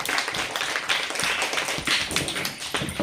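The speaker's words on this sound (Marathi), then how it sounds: "सगळ्यांनी टाळ्या द्यायचे" Schoolchildren of classes one to four clapping for the winners of a classroom game: dense, continuous close applause from a small group, fast and uneven, without pause.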